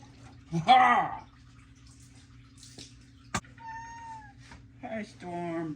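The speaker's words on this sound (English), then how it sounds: "That's a cat." A cat meows near a garage radiator swap, one loud rising meow followed later by softer tonal calls and clicks, with a person speaking briefly between them.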